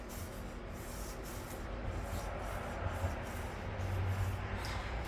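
Steady rubbing and sanding by hand on the painted cowl of a 1958 Johnson CD 15 outboard, a dense continuous scrape with faint repeated strokes, close and without talk, the final rub-down before paint.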